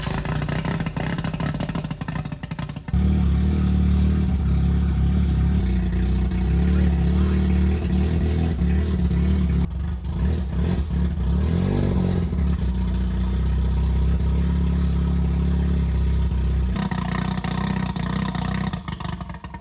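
A Mazda RX-7 racing car with a rotary engine fires up after a pause and runs at a loud, steady, buzzing idle with a brief dip partway through, the rough droning engine close by.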